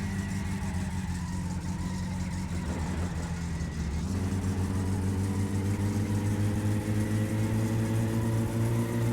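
In the video game My Summer Car, a steady engine drone with a low rumbling tire roar, rising in pitch midway as the vehicle accelerates, continuous and fairly loud.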